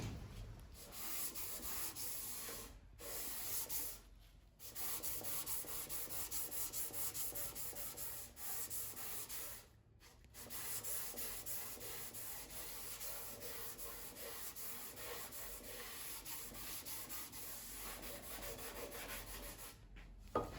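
Rhythmic rasping of 80-grit sandpaper rubbing over the wooden body of a saz being built, sustained strokes with a few brief pauses, close and fairly quiet.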